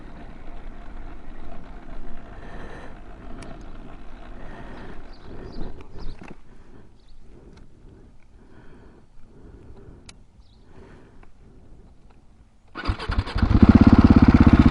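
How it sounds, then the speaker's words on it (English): A KTM 701 dirt bike engine runs with a steady, rough idle and then stalls out, dropping to quiet before a loud, close burst of broadband noise near the end. "My bike literally just stalled out of the blue."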